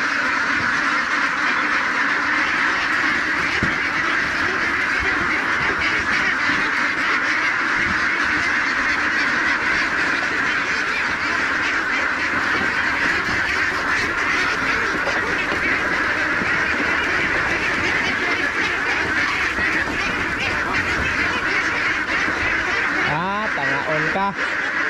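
A flock of young, lean ducks quacks continuously and densely, close by and fairly loud, while people talk over the noisy calling.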